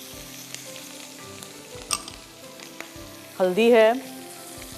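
Kashmiri red chilli powder and green chillies sizzle in hot oil for achaar, a soft continuous frying hiss with small clicks, and a brief spoken phrase toward the end.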